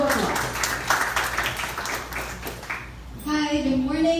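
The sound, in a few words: audience applause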